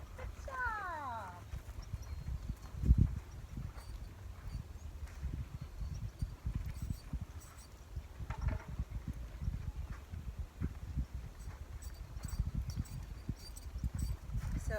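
Horse cantering in a round pen during gaited horse training over poles, soft irregular hoof thuds on footing with a sharper knock near the start, moderately close, while a person speaks intermittently.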